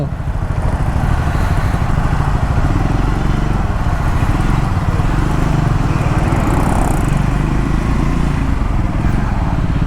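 A Triumph Scrambler 400X motorcycle engine with a gear problem runs steadily throughout, a continuous low rumble at constant loudness with no pauses.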